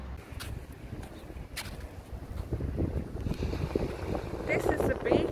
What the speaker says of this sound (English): So it's a bit breezy